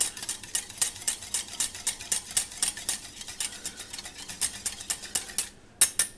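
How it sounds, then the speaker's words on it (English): A utensil briskly whisks pancake batter with egg in a bowl, giving fast rhythmic clinking taps that are close and steady, then a short pause before a few final strokes. "Mix it up a little bit with the egg."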